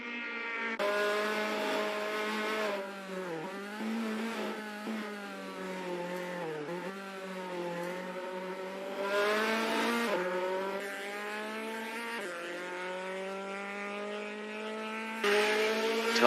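A Datsun 510 race car in a virtual racing game, its engine note rising and falling through gear changes with tire squeal on corners. Loud and close throughout, with no talking.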